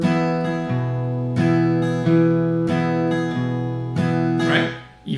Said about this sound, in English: So the second option we have for strumming the song sounds like this.